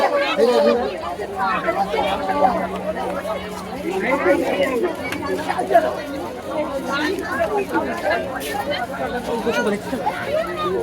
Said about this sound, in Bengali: স্নান করার জন্য এসে দেখছি প্রচন্ডই ভিড়